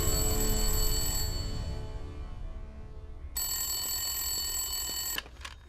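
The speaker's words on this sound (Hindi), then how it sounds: "एक फोन आया।" Telephone ringing at a police station on Tughlak Road, heard as two long harmonic bursts, the second louder and nearer, with a short gap between them and no talk.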